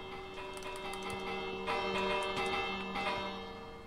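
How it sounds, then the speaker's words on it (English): Bell struck repeatedly in a Minecraft-style block game during a sand castle build, ringing tones with bright strikes around the middle of the clip, moderately loud over steady game background. "Shane's hitting the bell"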